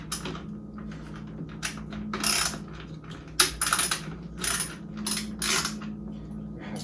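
Metallic clinks and rattles of tools and parts while taking the rear wheel off a Ninebot Max electric scooter, a series of close, irregular clicks and taps with brief pauses between them.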